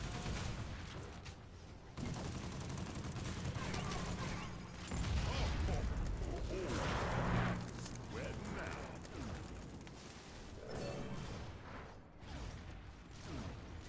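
Minigun fire in the video game Monday Night Combat: dense rattling bursts and mechanical whirring over shifting game noise, moderately loud, with people talking throughout.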